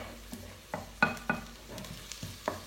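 Onions fry with a soft sizzle while garlic is added and stirred, giving a handful of irregular spoon-against-pan scrapes and taps, close but fairly quiet with no talk.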